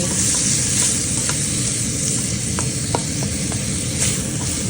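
Chopped tomato frying for chicken fry, a loud continuous sizzle in the pan with a few sharp clicks of a spoon scraping and stirring, no voices.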